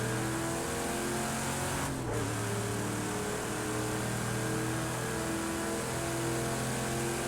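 A 1969 Camaro in Project Cars 2 roars under hard acceleration at Road America, a steady, loud engine drone that holds throughout with a brief dip and shift in pitch near the middle, no talk over it.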